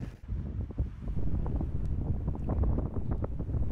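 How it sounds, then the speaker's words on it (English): Wind gusting hard across a rocky coastal corner, a loud, close, rumbling roar buffeting the microphone almost continuously. "Well, this is a pretty blowy corner."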